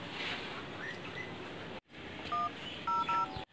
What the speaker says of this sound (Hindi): अब मैं पुलिस को फोन करूंगा।